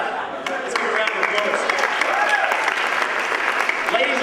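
Audience applause at a comedy debate in Sydney, a dense, steady wash of clapping from a large crowd that swells just after the start and holds level throughout.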